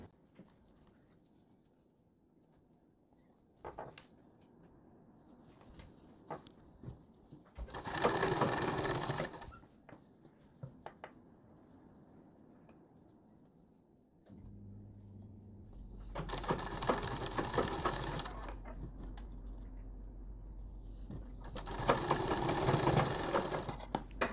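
A sewing machine stitches the collar seam of a round-collar kurti, running in several loud, sustained bursts with quieter pauses and small handling sounds between.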